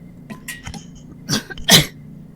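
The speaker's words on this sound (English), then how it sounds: "It's a cough." A few short, harsh coughs, two louder bursts near the end following fainter breathy sounds, close up with no talking.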